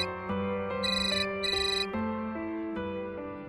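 A phone ringtone plays on unanswered, a bright repeating electronic melody with stepped tones, steady and fairly close with no talk over it.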